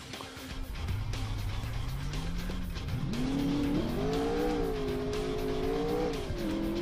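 Car engine in the Alarm für Cobra 11: Highway Nights video game, droning steadily and rising in pitch as it accelerates through gears, with tire noise underneath and no talking.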